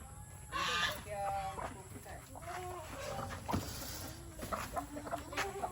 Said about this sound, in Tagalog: ito yung mga manok natin. Puro inahin.